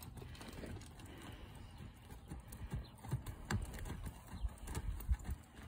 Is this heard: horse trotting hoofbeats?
yes